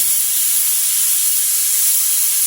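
Pressure cooker hissing as it releases steam after whistling, cooking goat leg soup in a home kitchen, a loud, close, continuous high-pitched hiss with no talk.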